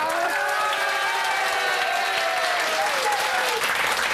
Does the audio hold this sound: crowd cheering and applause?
yes